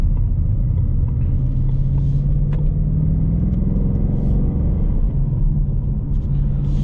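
A 2021 Ford Mustang Mach 1 with a V8 and a six-speed manual rumbles steadily from inside the cabin while driving. The deep drone dips briefly around a gear change, then settles back into a constant low growl.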